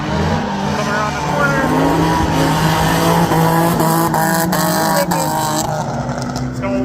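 Ford Mustang drift cars slide around a corner at Ozarks International Raceway, a loud, sustained roar of engines and squealing tires with shifting pitch throughout.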